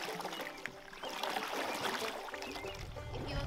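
Kayak paddle strokes splash and trickle through water at close range, soft swishing and dripping sounds forming a steady wash over a few seconds.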